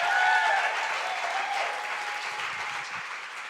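Sustained audience applause after a live music performance, a dense clapping roar that starts loud and slowly tapers off, with a faint tone at the start.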